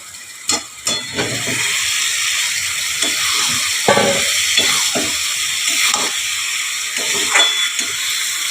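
Potatoes frying with garam masala powder for aloo dum, a continuous loud hiss and sizzle broken by several sharp clinks and scrapes of stirring.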